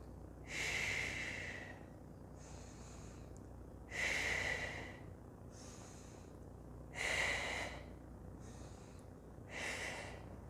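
Deep, slow yoga breathing held through a pose: loud airy inhales and exhales alternate in steady cycles, close to the listener, over a quiet room with no talk.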